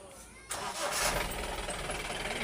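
A Mahindra Big Bolero pickup engine cranks and catches after a quiet moment, then settles into a loud, steady idle close by.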